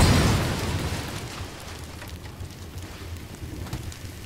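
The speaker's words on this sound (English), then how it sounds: "The fire extinguisher exploded." A fire extinguisher blowing apart in the kitchen game Cooking Simulator: a loud hissing burst that starts at full strength, then decays into a long rushing spray, with no voices over it.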